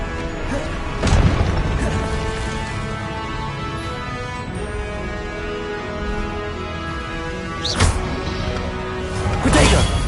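Confringo blasting spell explosions in Hogwarts Legacy burst as a few sharp booms and crashes with whooshes, set against a steady rumbling battle bed and shouted incantations.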